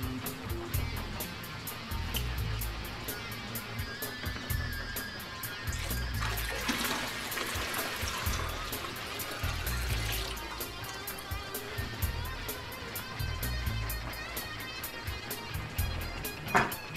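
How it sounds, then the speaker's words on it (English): Water is poured steadily into the external sump tank of an aquarium fitted with a protein skimmer, a continuous rushing splash with gurgling that swells midway through. "And so I'm gonna add more water."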